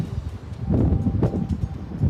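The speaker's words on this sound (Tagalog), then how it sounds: "Lakas ng hangin eh." Strong wind buffeting an outdoor microphone, a low rumbling roar that swells and gusts, with no speech heard.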